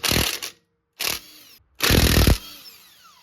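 Power tool loosening the brake caliper bolts on a 2009 Honda Pilot: three loud, close bursts of whirring impact driving, the last one longest, separated by brief silences, with no voices.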